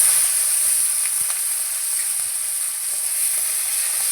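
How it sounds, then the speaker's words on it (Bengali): Chopped onion fries in hot oil, cooked for a Bengali pangas fish tel jhal curry: a steady, even sizzling hiss with no break and no voices. "পেঁয়াজ কুচিটা আমি হালকা করে ভেজে নেব।"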